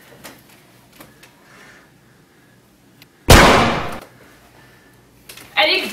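A single loud gunshot from a pistol loaded with blanks cracks sharply close by in a film scene, with faint movement before it and a voice starting up right after.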